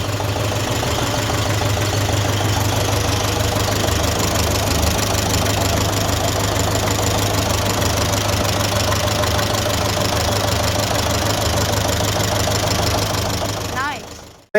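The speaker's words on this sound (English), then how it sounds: "Today we're going to be talking through this Massey Ferguson T20, which is a TVO petrol engine." A Massey Ferguson T20 tractor with a TVO petrol engine runs steadily at close range, its low rhythmic chugging and knocking loud and continuous for about fourteen seconds before cutting off abruptly at the end.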